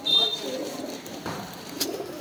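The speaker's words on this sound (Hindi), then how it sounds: "एक से एक बेहतरीन कबूतर है" Pigeons in a loft of fancy breeds, white-eyed, Madrasi and black and red types, giving soft, brief coos and flutters close by while someone talks over them.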